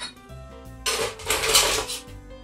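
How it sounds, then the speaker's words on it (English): Ice dropped into a cocktail mixing glass already holding orange bitters and maraschino liqueur, heard as a bright rattling clatter of cubes that swells and rings for about a second after a quiet start. "We'll add our ice"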